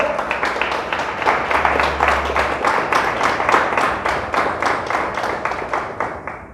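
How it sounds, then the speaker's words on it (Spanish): A church congregation claps together in steady rhythmic applause, a dense even patter that continues for several seconds and fades slightly at the end. "¿Le podemos dar un fuerte aplauso a Dios por eso?"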